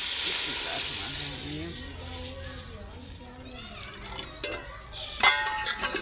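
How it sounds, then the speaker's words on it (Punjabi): Water poured into hot masala in a cooking pot, a loud steaming hiss that bursts at first and slowly fades, followed by faint clinks and children's voices in the background. "ਤੇ ਹੁਣ ਨਾ ਵਿੱਚ ਪਾਣੀ ਪਾ ਦਿੰਦੇ ਆ।"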